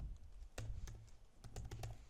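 Quick taps on a computer keyboard come in short irregular bursts, close and quiet with no talking.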